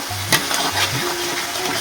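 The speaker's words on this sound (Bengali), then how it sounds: "সয়াবিনের মশলাটা কষাচ্ছি" Soybean and potato masala frying in a pan, a steady close sizzle with a sharp stir or scrape near the start and low bubbling underneath, no voices.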